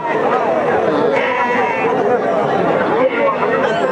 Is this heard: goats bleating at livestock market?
yes